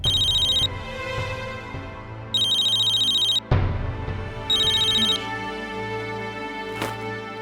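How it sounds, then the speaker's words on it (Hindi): A mobile phone ringtone plays in bursts, a repeating high electronic melody sounding three times with gaps, over background music and room sound, fairly loud and close. "निशी का फोन बज रहा है।"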